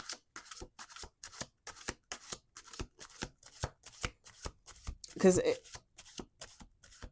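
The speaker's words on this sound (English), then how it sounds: "Okay, 2 more shuffles" Tarot cards riffle-shuffled in repeated quick bursts, a dense flurry building near the end, while someone talks over them nearby.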